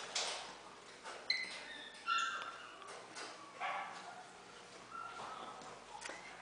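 Dogs in shelter dog rooms give faint, intermittent barks and yips spread across several seconds, somewhat distant over a quiet background.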